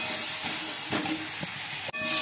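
Spices being sautéed in a cooking pan give a steady, close sizzling hiss, broken by a few soft stirring scrapes. No one speaks.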